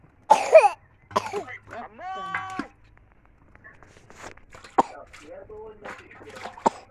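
A person coughs a couple of times near the start at a pond at night during fishing, followed by a harsh throaty sound and scattered talking with small knocks.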